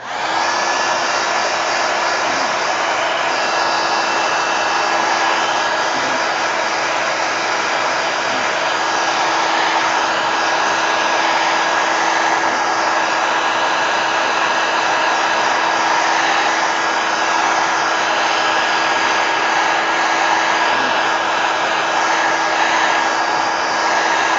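A hair dryer blows steadily over watercolor paint on journal paper, a loud, unbroken close whoosh with a faint steady whine running the whole time.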